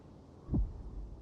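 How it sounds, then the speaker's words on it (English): A single faint, low heartbeat thump from the character Finan in Honkai: Star Rail, heard alone over a quiet dark hum. "Finan's heartbeat. It's so faint, like he's on his last breath."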